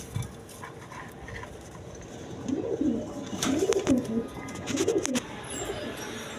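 Pigeon cooing from a single female field-back pigeon, heard as soft, rhythmic, low bubbling coos in a few bursts over steady background noise, with no talking.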